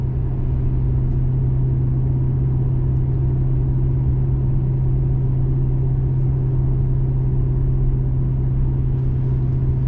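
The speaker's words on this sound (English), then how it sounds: "that distinctive sound that this car makes" Steady, continuous engine drone from a Maserati grand tourer driving at night, a low droning hum held at even loudness for the whole stretch, heard from inside with no talking.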